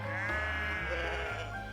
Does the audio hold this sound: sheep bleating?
yes